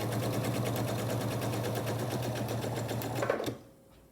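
A sewing machine stitching quilt fabric pieces with a quarter-inch seam, a fast, steady mechanical whirr running close up, then stopping abruptly near the end.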